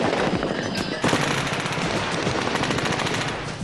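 M16 and AK-47 rifles fire in a virtual reality Vietnam War simulation: loud, continuous automatic gunfire with dense overlapping bursts and cracks that run through the whole stretch without a break.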